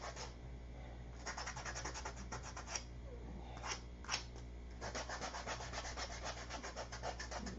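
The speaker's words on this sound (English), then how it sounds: "80 grit sandpaper" Steady rough scratching of 80-grit sandpaper rubbed back and forth over wood in repeated strokes, close and fairly quiet, with brief pauses between passes.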